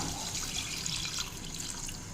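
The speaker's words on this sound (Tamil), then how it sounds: "இப்போ தேவையான அளவுக்கு தண்ணி சேர்த்துக்கலாம்." Water poured into a pan of frying masala, a close, steady watery rush and sizzle that continues evenly, with no one speaking.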